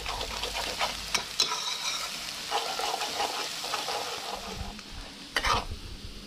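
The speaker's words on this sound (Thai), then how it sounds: "เราก็ผัดเครื่องเทศของเรานะครับจนเหลืองกรอบแตกกลิ่นหอมนะครับ" Blended spices and herbs stir-fry over medium heat in a pan, a continuous soft sizzle broken by scraping stirs and a few sharper clatters, fairly quiet and close with no talking.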